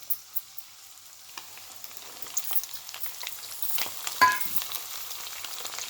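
Chicken pieces frying with curry leaves in a pan, a steady soft sizzle with scraping stir strokes and a sharper clatter near the end, no talking.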